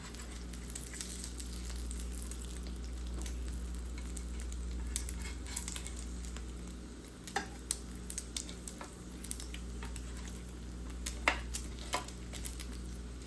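Bacon frying in a pan at home, a steady close sizzle and crackle with scattered sharp pops and occasional faint utensil clinks, no voices.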